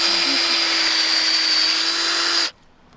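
A drill bores a tap hole into a maple tree, a loud steady whine with a constant pitch that runs for a few seconds and then cuts off abruptly, leaving quiet outdoor background.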